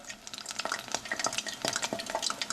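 Shrimp dipped in bannock dough fry in a deep fryer, giving off a steady crackling sizzle broken by sharp popping bursts, heard up close with no one speaking.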